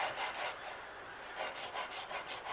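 A raw potato scrubs around the inside of a cast iron pan, giving close, rhythmic rasping rubs that repeat in short strokes.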